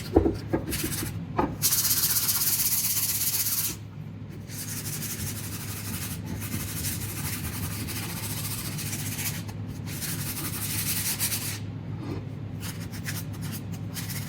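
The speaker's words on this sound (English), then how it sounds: "So with sanding, you can take away any blemishes." Steady scratchy rubbing of sandpaper by hand against a wooden boat paddle, continuous and close, with brief pauses early on and no talking.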